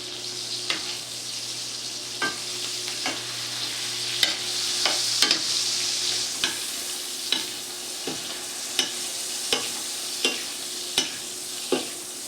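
Steak searing in a hot pan, a steady bright sizzle running throughout with periodic sharp clicks and scrapes of a utensil against the pan, no talking.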